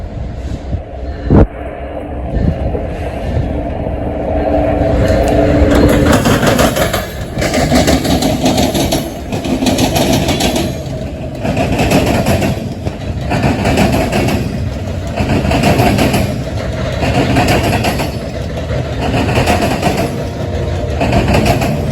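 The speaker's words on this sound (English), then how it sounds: "CSX Q331 as it makes its way westbound on the Mount Victory subdivision, with a special locomotive in its consist today" CSX freight train Q331 led by an ST70AH locomotive passing westbound on the Mount Victory subdivision, a loud, continuous heavy diesel rumble with rhythmic pulsing, close by.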